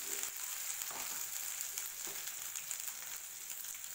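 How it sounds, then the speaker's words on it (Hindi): Onion and green chilli fry steadily in a pan as part of a cucumber-tomato sabzi, giving a continuous close sizzle with faint crackles and a few light stirring scrapes and no talk. "प्याज और मिर्च हमारा हल्का सा फ्राई हो चुका है"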